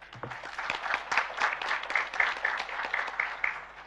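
An audience at a religious lecture breaks into applause, a steady patter of many hands clapping, moderately loud and sustained without a break.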